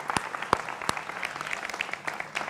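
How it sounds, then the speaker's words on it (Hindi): Studio audience on a televised Hindi political debate show claps to welcome guests, a brief burst of scattered, fairly sparse applause with sharp individual claps at moderate loudness. "मेरे युवा मित्रों का यहां जोरदार तालियों के साथ अभिनंदन है"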